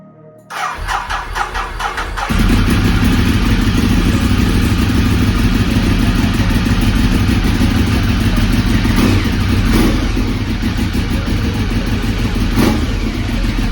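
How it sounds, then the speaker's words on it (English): A Ducati Testastretta motorcycle engine, just after a timing belt replacement, cranks briefly, catches and roars into a loud, steady idle with occasional revs, close up and without voices. "Final step, start the engine."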